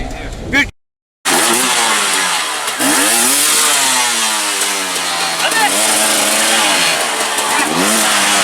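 An enduro motorcycle engine revs hard and climbs in pitch as a rider launches off the start at a Red Bull-sponsored race, loud and close, with a brief silent gap near the beginning.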